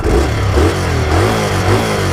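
Indian Scout Bobber motorcycle revs loudly up close, its engine and muffled, choked-sounding exhaust rising and falling in a continuous deep rumble.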